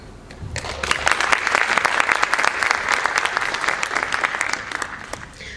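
Audience at a conference closing plenary breaks into sustained applause, a dense wash of many hands clapping that swells quickly and holds steady for several seconds before easing off, heard from within the room.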